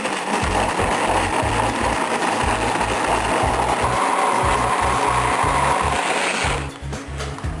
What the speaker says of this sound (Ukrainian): І далі знову, використовуючи блендер, все збиваю.